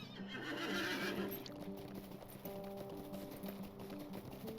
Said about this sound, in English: On a slightly faster horse.